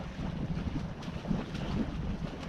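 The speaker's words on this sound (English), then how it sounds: "Very nice to have wind though" Wind gusts against a sailboat out on the water, a steady roaring rush buffeting the microphone with faint wave wash beneath and no voices.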